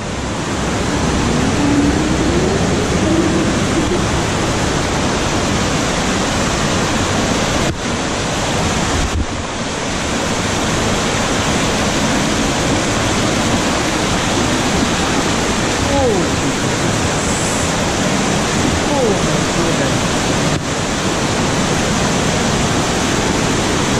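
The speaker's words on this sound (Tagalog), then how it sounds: "Ang lakas ng current ng ano, ng tubig." A strong current of water rushes through Bagumbungan Cave, a loud, unbroken roar of surging water with wind buffeting the microphone and faint voices now and then.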